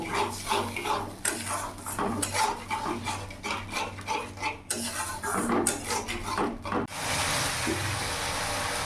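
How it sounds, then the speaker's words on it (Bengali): Chili powder masala for a rohu fish curry with potato and papaya is stirred in a pan, a spatula scraping and clanking against the metal in a steady rhythm, then a loud sizzle takes over near the end. "এতে কী হবে, এখন ভালো করে আমি কষে নেব।"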